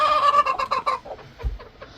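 Hens in a coop, laying eggs, cluck in quick, overlapping bursts, fairly close, with a few lower grunting clucks trailing off.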